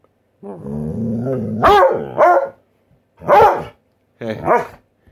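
A dog barks and growls up close, a long rumbling growl followed by three loud, sharp barks spaced apart.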